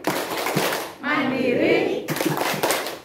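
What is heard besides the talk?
elderly audience doing a rhythmic group clap (tepuk lansia)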